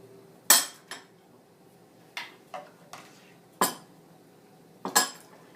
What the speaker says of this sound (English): Serve the soup while it's fresh and hot. Ladle it into the bowls.